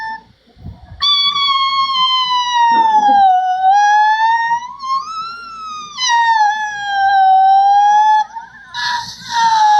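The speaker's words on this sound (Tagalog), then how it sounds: "Ambulansya ng bombero." A fire truck's ambulance-style siren wails loudly and nearby, its pitch sweeping up and down in long slow cycles, with a brief burst of other noise near the end.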